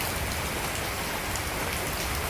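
Steady rain falls outdoors in a village yard where cattle stand and water pools, making a dense, even hiss with no pauses throughout and no voices.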